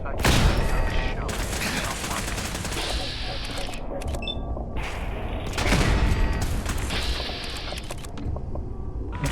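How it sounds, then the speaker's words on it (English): Rapid gunfire bursts from raiders in the game Fallout 4, dense rattling volleys with brief pauses, loud and close, with some voices mixed in. "Stop shooting me!"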